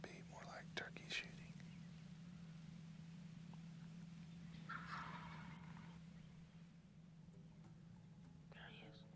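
A wild turkey gobbles at a distance during a spring hunt, with faint, brief gobbling bursts and low whispered voices over a steady low hum.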